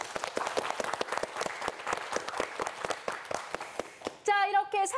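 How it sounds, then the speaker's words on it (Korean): Studio audience on a Korean TV quiz show applauds a contestant, a sustained burst of many hands clapping with sharp individual claps, cut off near the end by a short bright musical sting. "이승아 학생에게 큰 박수 부탁드립니다"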